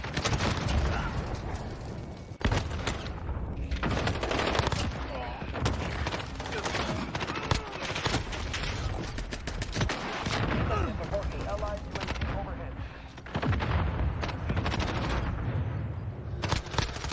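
Dense, near-continuous automatic gunfire from Call of Duty: Modern Warfare on the cramped Shipment map, rapid bursts and sharp cracks layered over one another throughout, with a voice talking underneath.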